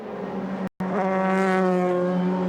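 DTM race cars from 2001 racing at Zandvoort on the first lap, a loud, close, high-pitched engine howl that cuts out for a split second, then returns and rises in pitch as a car accelerates past.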